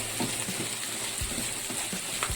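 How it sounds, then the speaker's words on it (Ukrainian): Chicken mince sizzles in a frying pan with carrot and onion under a steady hiss, broken by a few soft thumps and scrapes as it is stirred. "Додаємо сюди на сковорідку фарш. У мене фарш курячий."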